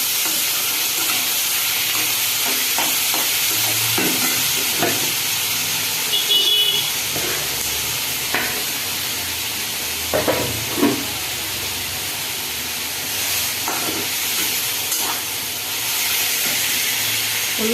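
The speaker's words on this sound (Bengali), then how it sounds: "এবার আমি পেঁয়াজ কুচি দিয়ে দিলাম।" Chopped onions sizzle steadily in hot oil and ghee in a pan for mixed fried rice, a constant broadband frying hiss with occasional stirring clatters and bursts of spatter, close and fairly loud throughout.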